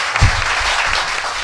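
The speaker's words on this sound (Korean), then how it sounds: "박수." Audience applause during a Korean talk-show taping on the Sewol ferry's zigzag course, a steady crowd clapping wash filling the short moment at moderate loudness without talk over it.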